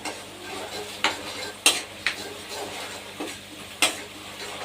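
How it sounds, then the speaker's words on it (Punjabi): Salt, turmeric and garam masala roast in a pot, with a quiet low sizzle under sharp, spaced metallic clinks and scrapes of a spoon against the pot, about six distinct strokes, no talking. "ਅਸੀਂ ਇਹਨਾਂ ਮਸਾਲਿਆਂ ਨੂੰ ਭੁੰਨ ਲਵਾਂਗੇ"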